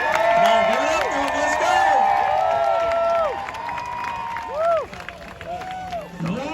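A crowd cheers and shouts as a side-by-side UTV is driven around a lap balanced on two wheels at the Freedom Factory. The cheering is loud and continuous, with an engine revving and rising and falling underneath.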